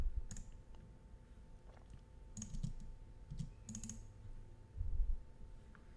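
Faint, close computer clicks at an office desk: a few sharp, separate taps scattered over several seconds, some in quick pairs, set against a quiet background hum.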